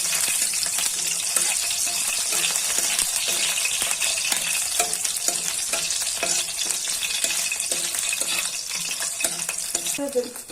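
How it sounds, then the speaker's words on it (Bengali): Garlic fries in hot oil in a pan for a leafy-stem greens bharta, giving a dense, steady sizzle close by with light stirring throughout, without any talk. "রসুন ভাজা নিতেছি এই ডাঁটা পাতার ভর্তা বানানোর জন্য।"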